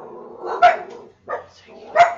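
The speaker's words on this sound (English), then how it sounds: "I don't know what they're barking at" A dog barks a few times in sharp, close bursts during a moose and bison hunting game session, the barks separated by short pauses.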